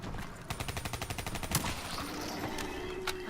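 Rapid automatic gunfire from a quick little weapon in Call of Duty Zombies, a fast, even burst of about a dozen rounds, followed by a few scattered louder shots over a dense, noisy game background.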